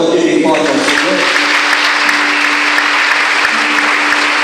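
A congregation applauds after a prayer of thanks, a steady wash of clapping from many hands, with a voice and faint tones running beneath the noise.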